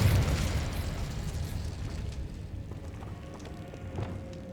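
A Repulsor spell cast in Hogwarts Legacy bursts out as a loud, blasting whoosh at the start, then fades into a rumbling, crackling tail with small pops, and no voice over it.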